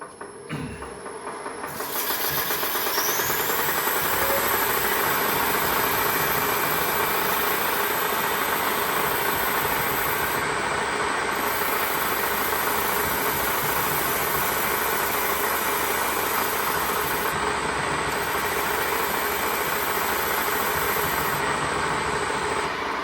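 A metal spinning lathe runs continuously while a copper ladle bowl is finished and its burred top edge worked, giving a loud steady mechanical hum and whir with a high whine throughout, no voices.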